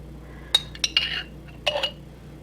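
Metal spoon clinking against a jar or bowl while scooping thick homemade pizza sauce of fresh tomatoes, garlic and basil, a few short close clinks and scrapes in a quiet kitchen.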